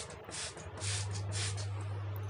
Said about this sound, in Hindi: सब जगह ये स्प्रे मैंने कोने वोने में कर दिया सब जगह